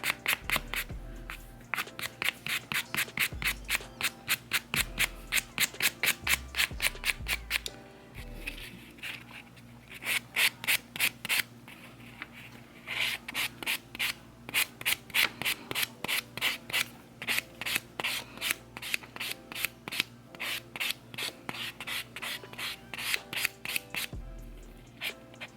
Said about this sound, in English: So now I'm just gonna lightly buff my nails,